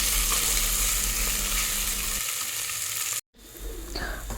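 Peas sauté in masala in a pan with a loud, close, continuous sizzle, which cuts out for a moment near the end and then resumes more quietly.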